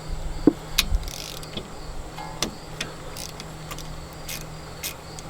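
A ratcheting socket wrench removing a brake bolt on a Chevrolet Cruze, a series of sharp, irregular metallic clicks and ticks close by over a low steady hum.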